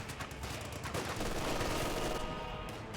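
Anti-tank gun fire in a Company of Heroes 2 World War II strategy match: a loud, dense burst of battlefield shooting that rolls on continuously for a few seconds, then thins out at the very end.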